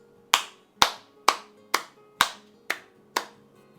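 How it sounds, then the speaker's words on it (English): Seven separate sharp claps or taps in an even, slow rhythm, each ringing out briefly before the next; crisp and close with no voices. "First off, I would like to give Apple a round of applause."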